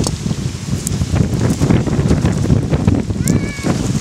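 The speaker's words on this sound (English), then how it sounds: "Very strong wind today." Strong outdoor wind buffets a microphone in an orchard garden, producing a constant loud low rumble and roar throughout. A brief faint whistle-like tone rises near the end.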